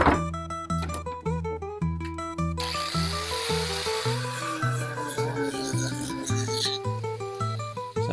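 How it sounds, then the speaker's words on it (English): A grinder cuts brad nails out of a piece of wood in a series of rhythmic, whining bursts, then settles into a steadier grinding tone, loud and close. "Sometimes a grinder is just the answer."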